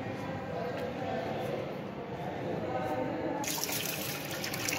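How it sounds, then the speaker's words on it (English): Tap water runs steadily while a stained blood slide is rinsed in a lab sink, a continuous broadband wash that turns brighter and splashier near the end, with no talk over it. "After 6 minutes, drain off the stain and wash the slide with tap water."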